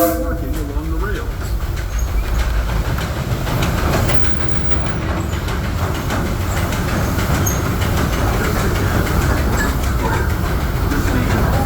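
A Disneyland Railroad steam train rolls along the rails at a theme park, with a continuous loud rumble and rhythmic rail clatter from on board, while an announcer's voice speaks over the noise.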